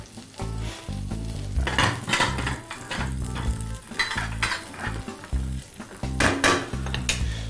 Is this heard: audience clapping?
no